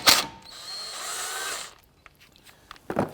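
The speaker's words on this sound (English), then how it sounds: "We're going to use a T30 Torx bit and remove it." A power tool runs a T30 Torx bit to back out the screw holding the brake rotor on a 2007-2014 Cadillac Escalade, whirring steadily for about a second after a sharp start, then falling away to quiet clicks.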